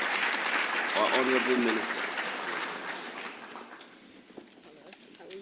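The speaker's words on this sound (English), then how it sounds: "A round of applause for" Audience applause greets an engineer invited onstage at an African engineering conference, broad clapping that fades over several seconds while an announcer's voice speaks over it.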